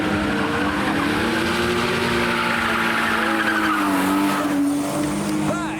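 Loud, continuous tire squeal from a Marina Blue E96 1.6 doing a burnout leaving a car show, with a high revving engine droning underneath for several seconds.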